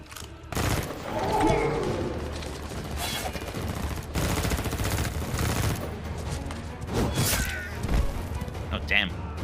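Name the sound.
gunfire in Mortal Kombat X video game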